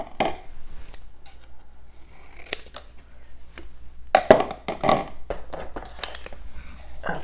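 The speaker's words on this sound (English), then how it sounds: "And then I'll cut this flap off." Scissors cutting off a paper flap while making a baby album, soft snipping and crisp clicks of the blades in irregular short bursts, faint and close, with quiet room noise between cuts.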